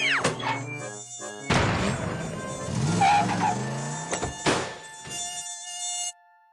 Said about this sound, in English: Oh dear, mosquitoes.